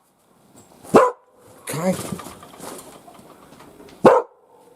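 Two small dogs bark in two sharp, loud yaps a few seconds apart, close by outdoors near a wood shack, with someone speaking briefly between them.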